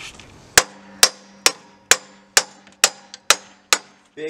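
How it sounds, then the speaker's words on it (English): Eight sharp metallic blows from a big hammer on a pre-war race car's metal parts ring out at a steady pace, each clanging strike decaying quickly, close and loud with no talking. "Big hammer."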